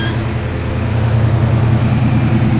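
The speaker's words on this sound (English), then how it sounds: "That exhaust is nice on that car." A 1977 Pontiac Trans Am idles with a steady, deep exhaust rumble, close and continuous, with no talk over it.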